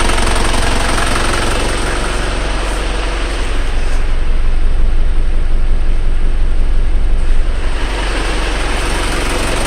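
An Isuzu Panther engine idles after starting, a loud, steady, close rumble with a constant rapid knock-like pulse that swells slightly partway through.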